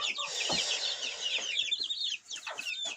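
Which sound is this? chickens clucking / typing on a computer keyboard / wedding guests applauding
chickens clucking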